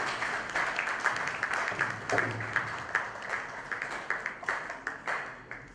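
Congregation applauding at a church book launch event, a moderate crowd clapping with distinct rhythmic slaps that gradually thin and slow toward the end.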